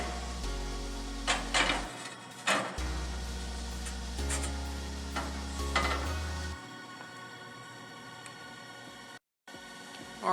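A 15-inch pizza stone is lifted and set into the grate opening of a Sunstone charcoal hybrid gas wood-burning grill, with several scraping clanks and knocks of stone and metal over a low hum.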